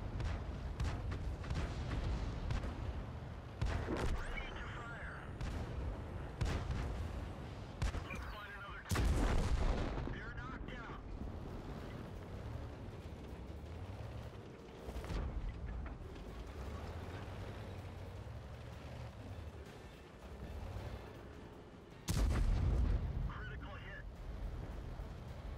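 Tank cannon fire in the World of Tanks video game: heavy booms repeat at irregular intervals, with a few especially loud blasts, amid rumbling battle noise and a player talking.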